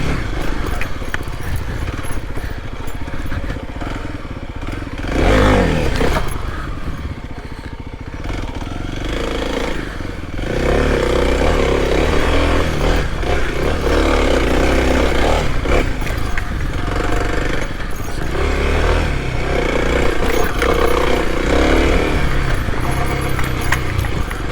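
A Kawasaki KLX 300 dirt bike rides tough technical trails and hillclimbs, its engine revving and dropping continuously with brief lulls, close and fairly loud against wind and trail noise.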